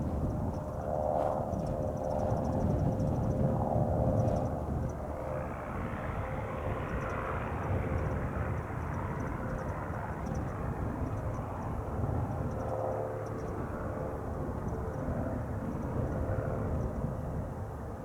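A general aviation aircraft takes off from Spirit of St. Louis Airport, a steady loud engine roar that holds throughout and shifts tone as the plane climbs away.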